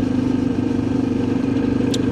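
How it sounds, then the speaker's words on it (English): Motorcycle on a dirt road, recorded up close by a wireless mic during a ride, giving a steady droning engine hum with a low rumble, unbroken and without speech. "I know a lot of you all like to hear the sound of the motorcycle"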